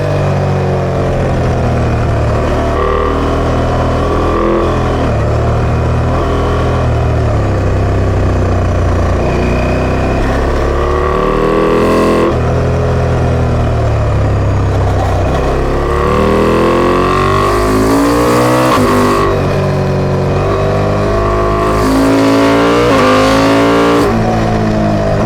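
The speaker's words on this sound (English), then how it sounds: "So I have used the SMT from SuperMoto track, doing a little SuperMoto style riding." A KTM 890 SMT motorcycle fitted with a Remus exhaust is ridden supermoto-style on a track. Its loud engine keeps roaring, rising and falling through repeated revs and throttle changes.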